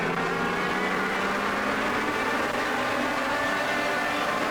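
Race cars barreling down the backstretch at full speed at the Cookout Summer Shootout, a dense, sustained engine roar from a pack of cars, loud and steady throughout.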